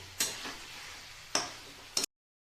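A spoon scrapes three times through cauliflower curry with chopped coriander in a pan, each stroke a short, bright scrape with a little sizzle, spaced unevenly, then silence.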